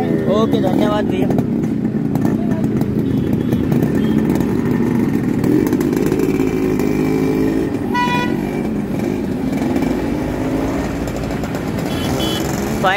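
A pair of vintage Yamaha RX100 two-stroke motorcycles ride off near Bhopal Junction, engines droning steadily with horn toots and passing traffic, while voices talk over the noise.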